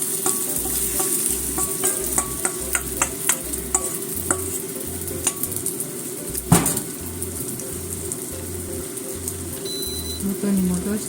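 Onion pancake (chijimi) made without flour frying in a pan, giving a steady close sizzle and crackle with regular rhythmic low thumps, a sharp clack midway, and a voice speaking at times over it.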